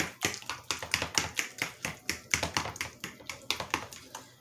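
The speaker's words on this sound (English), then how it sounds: "take your fork, mash it up" Canned mushroom soup being mashed with a fork, a quick series of sharp close taps and scrapes against the container, roughly three or four per second, fairly quiet and without talk.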